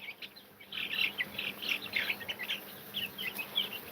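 Hens and tiny chicks let out of their coop, scratching in the dirt outdoors, give repeated high chirps and peeps in short clustered bursts, fairly close but quiet.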